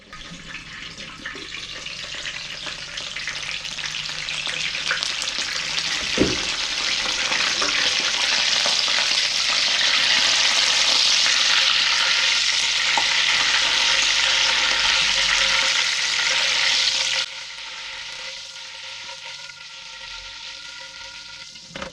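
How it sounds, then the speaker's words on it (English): Potato latkes frying in a pan of hot oil, a dense, steady sizzle and crackle with spattering that stays loud and close, then drops abruptly to a quieter hiss near the end. "A little bit of oil spatter is going to be inevitable with this."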